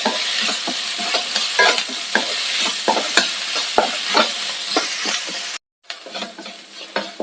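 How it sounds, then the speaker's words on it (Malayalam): Sliced onions sauté with green chilies in a hot pan, a steady bright sizzle broken by repeated scraping strokes of a stirring spoon, with a brief drop to silence near the end. "ഇനി ഇത് നന്നായിട്ടൊന്ന് വഴറ്റിയെടുക്കണം."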